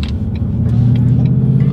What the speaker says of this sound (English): Rev matching, son.